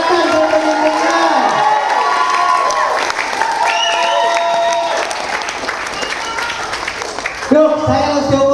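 A large crowd at a health talk claps and cheers, with shouts and whoops rising over dense applause before it thins out near the end, while a voice talks over the noise.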